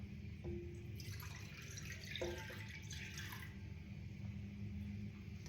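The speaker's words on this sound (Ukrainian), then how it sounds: "Нам потрібна миска, тепле молоко, вливаємо" Warm milk poured into a bowl for roll dough, a soft gurgling, splashing stream with a few drips, close and quiet with no talk.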